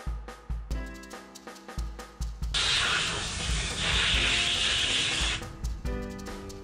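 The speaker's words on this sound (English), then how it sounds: "A little bit of sanding to get those fibers from the router bit off" Several seconds of steady, hissing abrasive rubbing as a wooden cake topper is sanded to remove fibers left by a router bit, between sharp plucked music notes before and after.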